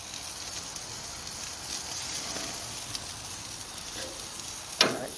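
Frozen pork chops sizzle on a grill beside heating sauerkraut and peppers, a steady close frying hiss running throughout with a brief sharper crackle near the end.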